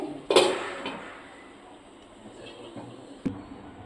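Paneer being stirred into spices in a pan for shahi paneer: a sharp clatter of a spoon against the pan, then quieter scraping and a second clink, close by.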